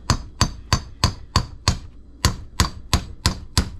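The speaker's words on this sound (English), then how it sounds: "we'll see if we can just whack it here to the end of this hammer a little bit" Sharp metallic hammer strikes ring out in a steady rhythm, about a dozen blows close up on a stubborn Husqvarna 365 chainsaw part during cylinder and piston removal, with a brief pause midway.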